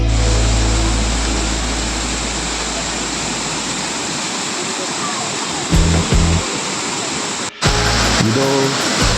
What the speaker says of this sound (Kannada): ಸ್ವಲ್ಪ ಮುಂದೆ ಸಾಗಿದಂತೆ ಜಲಪಾತದ ಗರ್ಜನೆ ಕೇಳಲು ಆರಂಭವಾಗುತ್ತದೆ